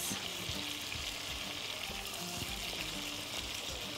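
Chicken frying in a pan for pasta with ranch sauce, stirred with a steady close sizzle and scattered scraping clinks of the utensil throughout.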